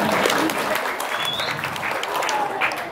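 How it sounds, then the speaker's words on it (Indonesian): Applause from a group at a Balinese bondres comedy dance performance rattles on continuously, with a voice talking over and under the clapping throughout. "saya tepuk tangan dulu"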